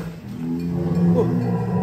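A cow lets out a long, low moo, loud and close, over faint background noise, at a cattle contest on a farm.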